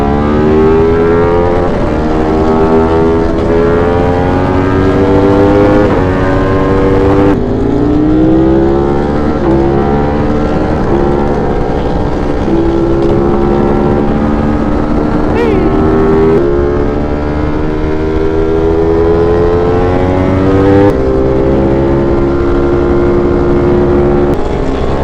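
Italian motorcycle engine running loud and close for the whole stretch, with rising and falling revs as it rides along a gravel road, a steady droning roar with shifting pitch throughout.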